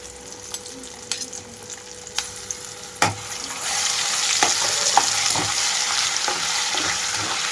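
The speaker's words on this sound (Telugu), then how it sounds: "ఇప్పుడు ఇందులోనే అల్లం వెల్లుల్లి పేస్ట్ కూడా వేసి వేయించుకుంటున్నాను." Two tablespoons of ginger garlic paste fry over medium flame in a pan for chicken pickle. A steady close sizzle builds, broken by sharp scrapes and taps of a stirring spoon.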